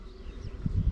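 Honey bees work around an open hive during a colony inspection, their low droning hum steady and close throughout, swelling a little louder toward the end.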